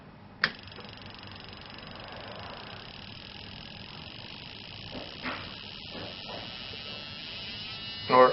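Ignition coils from a Jeep Cherokee under test give off a faint, thin electrical buzz with a few sharp clicks and snaps, heard close up.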